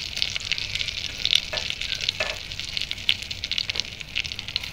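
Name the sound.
paneer butter masala gravy sautéing in a pan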